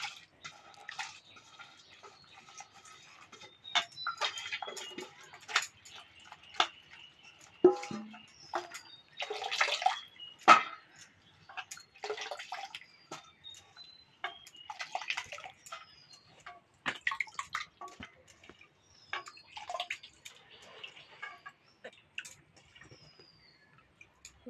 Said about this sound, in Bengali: মোচাগুলো জলে ধুয়ে নেবো।